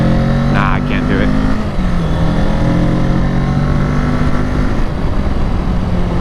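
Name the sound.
Kawasaki Ninja 650 motorcycle climbing a hill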